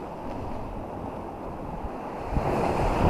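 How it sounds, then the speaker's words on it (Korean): Sea waves break on a cold early-morning shore with a steady rushing wash of surf and some wind buffeting the microphone, swelling louder toward the end. "어제보다 파도가 약간 있고요"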